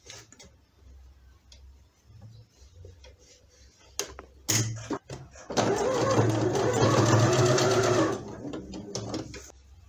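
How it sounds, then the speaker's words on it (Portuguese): Sewing machine stitching the hair tail onto a handmade fabric baby doll's head: scattered clicks and handling noises, then a loud steady whirring run of a few seconds that stops abruptly, followed by more light clicks. "Aí eu já passo uma costura aqui para segurar."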